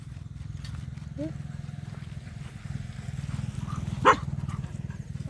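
A dog gives a single sharp bark close by, rising over a steady low droning rumble, while a person talks through the clip.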